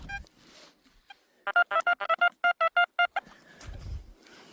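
A metal detector gives a rapid series of about a dozen short, clipped electronic beeps in two-tone pulses, loud and evenly spaced, with quieter rustling before and after.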